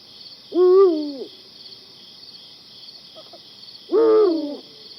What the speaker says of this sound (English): The eagle owl, the grand duke, hooting for the female.